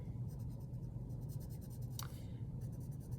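A red-orange colored pencil shades the outer area of a drawing on paper, its soft repeated scratching strokes close and quiet, continuous with brief pauses.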